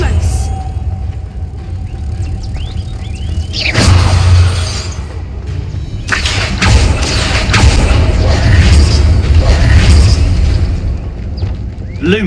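Bombarda blasting spell erupts in the Hogwarts Legacy video game, heavy booming bursts and rumbling crashes rolling over several seconds, loud and close, with a voice calling out spells.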